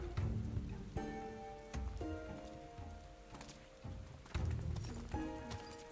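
Steady rain patters across a surface in the video game Final Fantasy XIV, mixed with soft sustained tones and occasional louder gusts of downpour.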